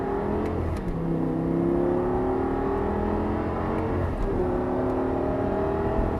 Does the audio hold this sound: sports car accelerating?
yes